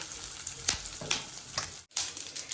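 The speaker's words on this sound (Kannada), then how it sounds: "ನೋಡಿ ಚೆನ್ನಾಗಿ ಫ್ರೈ ಆಗ್ತಾಯಿದೆ. ಈ ಥರ ಫ್ರೈ ಆಗಬೇಕು." Peanuts frying in oil in a pan for puliyogare, a soft continuous sizzle broken by a few sharper crackles and stirring scrapes, with a brief silent cut partway through.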